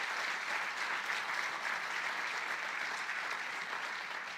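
A church congregation claps together in a steady, dense wash of applause, held at an even level throughout with no voices on top.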